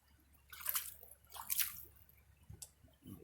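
Water sloshing in a gold pan during a shovel-and-sluice outing, two soft splashy swirls with quiet drips and faint handling sounds between, close and low in level.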